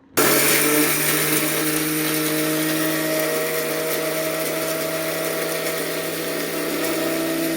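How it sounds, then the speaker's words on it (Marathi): An electric mixer grinder whirs at high speed while grinding coriander seeds, cumin and black pepper, a loud steady motor drone with a whining hum that starts abruptly and runs on evenly. "आता आपण थंड होण्यासाठी ठेवलेलं धने, जिरं आणि मिरे ते आपण मिक्सरला बारीक करून घेऊया"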